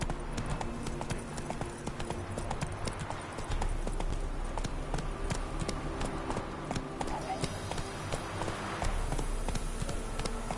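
Horse hooves gallop in The Witcher 3: Wild Hunt, a continuous loud clip-clop rhythm over a low rumbling background, with occasional faint voices.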